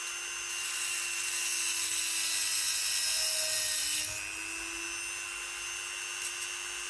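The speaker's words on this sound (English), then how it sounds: "I'm now going to try and cut this with this Dremel light" A Dremel rotary tool cuts through a small screw held in a vise, a steady high-pitched grinding whine that holds for about four seconds, then drops to a softer running hum with no talk.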